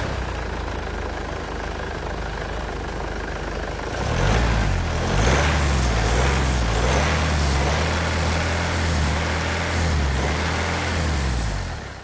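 A Mercedes-Benz B180 engine cranks and catches about a third of the way in, then settles into a steady, close, fairly loud idle with a low rhythmic throb, after a stretch of background hiss.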